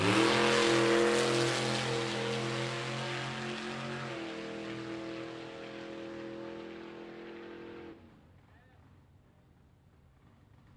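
A vintage AA gas drag race car makes a shakedown run at a drag strip, its strong harmonic engine roar shifting pitch once and gradually fading into the distance before cutting off.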